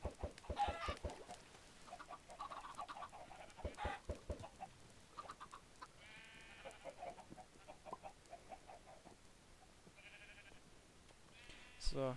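Chickens on a Minecraft chicken farm in the video game, with repeated short clucks and bleat-like calls scattered across the clip at a faint, low level, with no speech over them.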